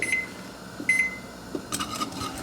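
Kitchen timer being set while making homemade marshmallow fudge on the stove, giving a few short, clear electronic beeps spaced apart, with soft stirring and kitchen noise around them.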